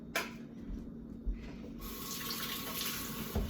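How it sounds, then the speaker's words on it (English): A kitchen tap runs while fingers are rinsed beneath it, a soft steady splashing stream with a couple of small knocks, and the flow briefly changes tone partway through. Quiet and close, with no speech. "Give my fingers a little rinse."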